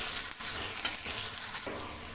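Chopped onion fries in a pan, giving a steady close sizzle with a few brief scraping stirs, no voices over it.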